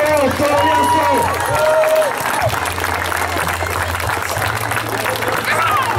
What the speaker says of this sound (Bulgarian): Силни аплодисменти за колумбийците от Царско село!